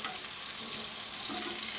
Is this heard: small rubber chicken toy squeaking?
no